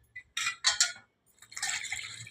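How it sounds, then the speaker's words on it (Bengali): Vegetables and potatoes being rinsed in water, splashing and dripping in short bursts close by, with a brief pause before a longer wash. "এই যে বন্ধুরা দেখুন আমি এই সবজিগুলোকে একটু ধুয়ে নেব"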